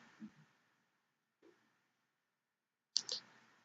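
A computer mouse clicks a few times, faint and close, with single sharp clicks separated by silence and a slightly louder double click near the end.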